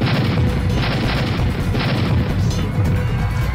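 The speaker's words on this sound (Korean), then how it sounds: "굉음과 함께 불기둥이 일었고" Bomb blast in a crowded station square, rendered as a loud, sustained booming roar with crashing debris that holds dense and heavy for several seconds, with no voices.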